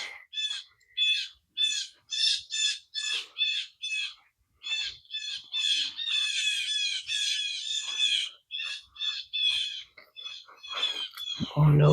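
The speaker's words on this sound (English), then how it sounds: "I think those are blue jays, I think. I think that's what I'm hearing. Blue jays." Several blue jays squawk in a backyard garden, a rapid run of harsh, raspy calls repeating almost nonstop, close and loud, with brief gaps between bursts.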